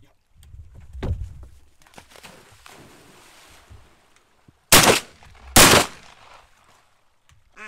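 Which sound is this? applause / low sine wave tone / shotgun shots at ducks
shotgun shots at ducks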